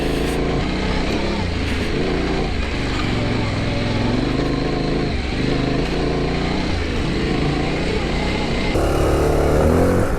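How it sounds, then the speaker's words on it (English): A Honda XR650L adventure motorcycle rides over rocky ground, its engine droning loud and steady throughout with small changes in throttle and a rise near the end, heard close up. "Keep that big fat adventure bike moving."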